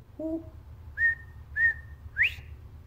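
A short low note, then three rising whistled calls in a steady sequence, a bobwhite quail imitation blown on a Cupem and Cutem 6-in-1 game whistle.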